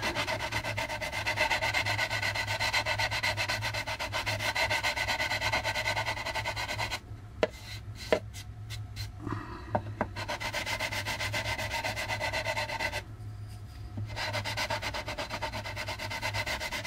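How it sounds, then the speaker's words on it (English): Parts for an AMT U.S.S. Enterprise model kit are cross sanded by hand in steady rapid back-and-forth strokes, close and continuous, with a couple of brief pauses broken by light taps. "Cross sanding."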